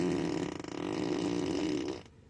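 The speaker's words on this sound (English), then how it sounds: "did you just fart in my car?" A Tesla Model Y plays its fart sound effect inside the car: a long, low, buzzing noise lasting about two seconds at steady loudness, then cutting off abruptly.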